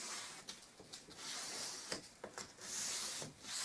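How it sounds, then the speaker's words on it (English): A skirting board being hand-sanded with 180 grade sandpaper, making soft, close, continuous rubbing strokes with a quiet abrasive hiss and no talk. "Just the last bit to sand, skirting board,"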